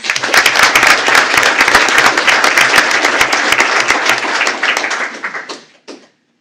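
A school board meeting audience breaks into loud, sustained applause that holds steadily for several seconds, then tapers off and stops.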